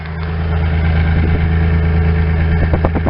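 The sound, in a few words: car engine idling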